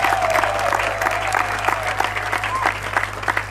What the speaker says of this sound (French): Je voudrais qu'on applaudisse pour tous ceux qui sont présents.